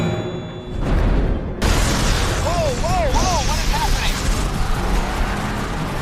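An explosion goes off in the middle of Lynch's troops during a film battle at a harbour, a sudden broadband burst followed by sustained loud rumbling and chaotic action noise, with music and a narrating voice running over it.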